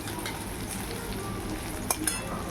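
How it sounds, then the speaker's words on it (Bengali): Onion and chilli sizzle in a small amount of hot oil, a steady close frying hiss with a couple of faint utensil clicks near the end, no talking. "এই যে পেঁয়াজ লঙ্কাটা ফোড়ন দিল"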